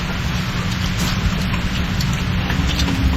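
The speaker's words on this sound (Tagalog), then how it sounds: "umuulan na po siya" Steady rain falls outdoors in a dense, even hiss with a low rumbling undertone, continuous and fairly loud throughout with no voices.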